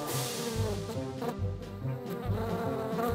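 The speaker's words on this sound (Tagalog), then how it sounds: "bago pa pagkaguluhan ng mga customer ang kanilang turon, nauna na ang mga bubuyog." Bees buzz in a continuous, wavering drone around turon snacks at a street food stall in Ermita, Manila, close and steady, with the pitch rising and falling as they move, and no talking.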